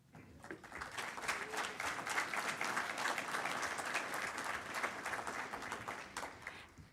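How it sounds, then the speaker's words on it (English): Families applaud graduates at a class of 2025 graduation ceremony, a dense crowd clapping steadily and loudly for several seconds with scattered cheers mixed in. "This is where families get to clap and yell for each other."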